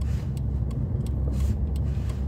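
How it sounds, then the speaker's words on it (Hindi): A car's engine is gently revved as it pulls away without using the clutch, giving a steady low rumble that holds at an even level throughout, close by, with no voices. "कई लोगों से बिना क्लच के नहीं उठती ना गाड़ी, तो आप रेस दे सकते हो हल्की हल्की"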